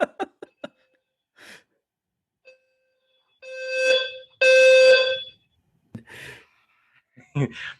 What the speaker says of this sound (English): The alarms were going off in the whole building